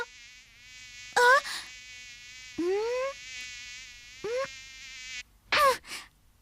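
A fly buzzes in a continuous, whiny drone in a Ninja Hattori cartoon, close and steady, broken by short vocal yelps and gasps.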